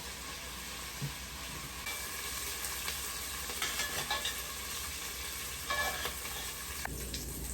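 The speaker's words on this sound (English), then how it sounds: "We're gonna cook our veggies until they're slightly softened and our onions slightly translucent." Chopped vegetables and onions sauté in a pan for a pot roast, making a steady soft sizzle with occasional stirring scrapes. The sound stays fairly quiet throughout and no one speaks.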